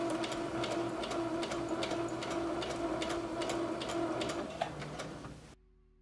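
A sewing machine stitches fabric while a skirt is turned into pants, giving a steady, rapid, even ticking hum close by that runs continuously before stopping.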